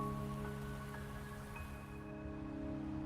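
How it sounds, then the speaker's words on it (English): Easing rain in the Wuthering Waves video game, a soft continuous patter with no distinct drops, heard under a steady tonal game music bed. "Rain is subsiding."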